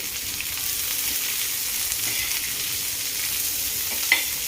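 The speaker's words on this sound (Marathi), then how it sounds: "कांदा परतायचा आहे" Chopped onion sautéing in oil with mustard seeds makes a loud, continuous hiss of frying, with a single sharp stir or tap near the end and no talking.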